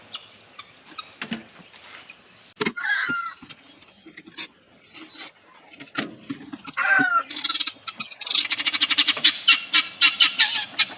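Guinea fowl call repeatedly with harsh, rattling, rhythmic cries, growing louder and more continuous toward the end, fairly close by.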